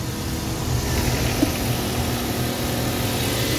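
Ford EcoSport engine idling just after starting, a steady even rumble with a low throbbing pulse, close and constant throughout, no talking.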